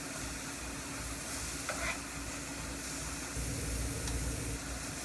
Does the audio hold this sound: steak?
yes